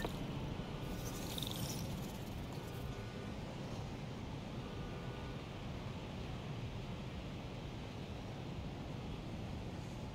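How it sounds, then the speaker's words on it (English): An out-of-control helicopter in the Spider-Man: Miles Morales video game gives a steady, fairly faint whirring rumble that continues without a break. "Helicopter's out of control."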